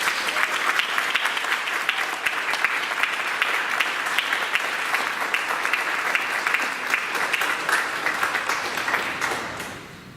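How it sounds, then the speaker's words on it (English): A school board meeting crowd breaks into sustained applause, steady dense clapping filling the room for about ten seconds before tapering off at the end, with no talk over it. "Let's give her a big round of applause."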